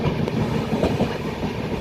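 A train rolls steadily through small stations in the Dooars, a continuous loud rumble with faint clickety-clack of wheels on rail joints, no voices.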